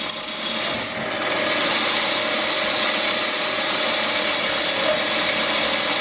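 A metal lathe cuts a counterbore into a sprocket, a steady grinding, chattering cut with a constant whine, close and loud, running without pause.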